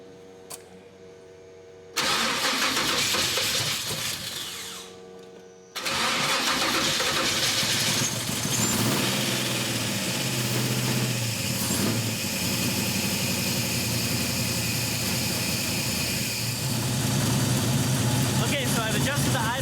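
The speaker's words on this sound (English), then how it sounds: "let's go ahead and try starting it" An old hot rod engine fitted with an EFI swap cranks briefly, stops, then fires up and settles into a loud, steady idle that continues to the end.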